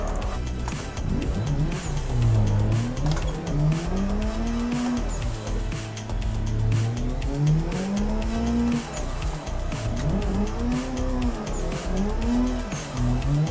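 Car drifting in the Assetto Corsa racing game, tandem on a track, with the engine revving up and down in sweeping waves while tires squeal and skid almost continuously, loud and close, with no voices.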